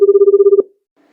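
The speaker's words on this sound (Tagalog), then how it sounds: "nang biglang mag-ring ang telepono na nagmumula sa room 211." A hospital telephone rings with a rapid, trilling electronic bell, loud and close, pulsing evenly for about half a second before cutting off into near silence.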